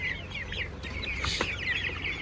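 Chickens about 35 days old cluck and squawk close by in short overlapping calls, a small flock chattering steadily with no voices.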